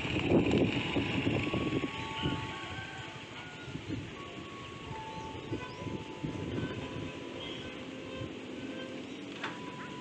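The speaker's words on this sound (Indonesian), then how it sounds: "Sebentar lagi kereta apinya akan lewat" Passenger train passing near Tanjung Rasa station, coming from the Cirebon direction, makes a steady rumbling roar with wind noise on the microphone, loudest at the start and then holding a continuous moderate level.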